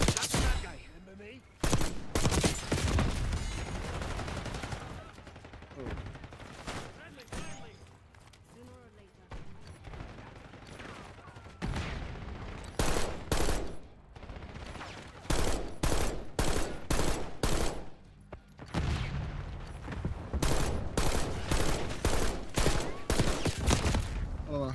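Rapid bursts of automatic gunfire from a first-person shooter video game, loud and close, coming in repeated volleys with pauses between them, and a voice talking over some stretches.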